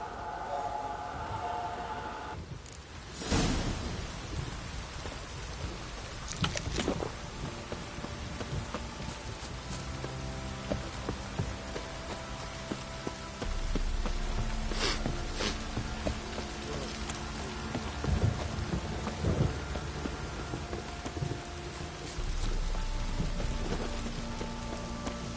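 Video game rain in The Witcher patters on surfaces throughout, with occasional low rumbles and sharper cracks of thunder rising above the constant hiss.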